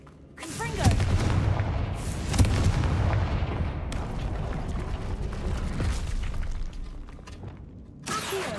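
A Confringo fire spell from Hogwarts Legacy bursts into a loud, rumbling explosion with crackling blasts that sustain for several seconds, then decays, followed by a short renewed burst near the end.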